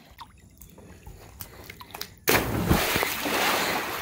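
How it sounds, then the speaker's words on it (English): A person cannonballs into a swimming pool: quiet rustling gives way to one sudden loud splash, followed by continuous sloshing and churning water close by. "Now that was a cannonball."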